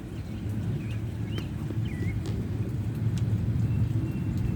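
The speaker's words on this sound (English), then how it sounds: "that was thunder and an airplane." Thunder rolling together with an airplane passing overhead during a severe thunderstorm in southeastern Pennsylvania, a steady deep rumble that swells slightly over a few seconds, with faint bird chirps above it.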